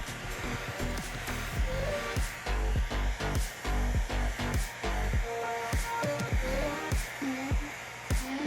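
Heat gun blowing on window tint film as a trainee shrinks it, a continuous airy hot-air roar overlaid with repeated clicks and rustles of the film and handling.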